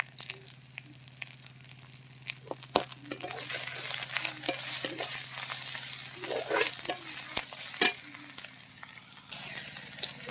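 Onion frying in a pan with ginger-garlic paste and salt, a steady close sizzle with bursts of spatula stirring and scraping throughout.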